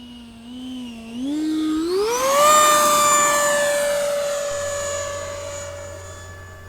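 An E-Flite F-4 Phantom II 80 mm electric ducted fan model jet passes by, its whine rising sharply in pitch and loudness and then holding a steady high tone as it flies on.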